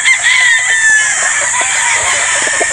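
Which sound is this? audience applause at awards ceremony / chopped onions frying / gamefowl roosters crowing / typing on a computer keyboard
gamefowl roosters crowing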